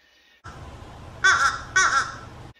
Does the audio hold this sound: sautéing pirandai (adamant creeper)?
no